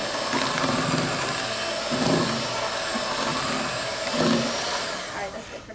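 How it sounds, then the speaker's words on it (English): An electric hand mixer whirs steadily through sugar cookie cake dough, a dense continuous motor drone with slight surges in load as the beaters work, close and loud throughout. "after you're done mixing it with the mixer"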